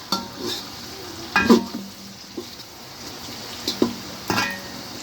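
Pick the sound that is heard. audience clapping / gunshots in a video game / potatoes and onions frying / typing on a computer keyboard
potatoes and onions frying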